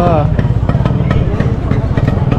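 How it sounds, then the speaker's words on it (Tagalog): Many motorcycles idle and rumble nearby in a busy plaza at Angono, a steady low engine drone with people talking close over it. "Dami ng motor, oh."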